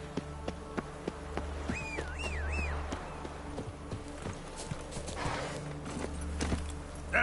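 Roach, a horse in the video game The Witcher 3, moving at a steady clip with continuous rhythmic hoofbeats and a rising, wavering whinny partway through, over a low ambient bed.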